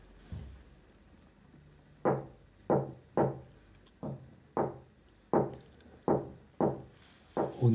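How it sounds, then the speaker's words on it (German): Knocks on a wall of a Playmobil pyramid prison, struck in clustered sharp raps with short pauses between them, roughly nine hollow thuds, fairly close and alone without voices. "Er klopft an die Wand."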